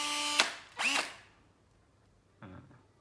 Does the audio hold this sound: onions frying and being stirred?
no